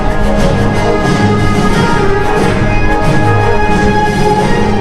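A march from Star Wars blares over loudspeakers at Hollywood Studios in Disney World during the Christmas season, loud and steady in an open outdoor space, with brass swells and crowd ambience mixed in.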